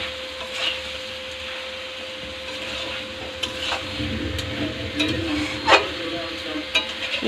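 Potatoes and goat mutton stirred in a frying pan: a continuous low sizzle broken by irregular scraping and knocking of the spoon, with a faint steady hum behind it.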